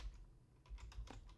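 A quick run of keystrokes on a computer keyboard during Windows setup, quiet, uneven taps close by with no voices.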